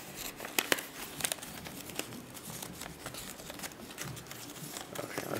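Origami paper is folded by hand into a paper crane, producing close, intermittent crinkling and crisp creasing with a few sharper rustles, while a person talks quietly at times.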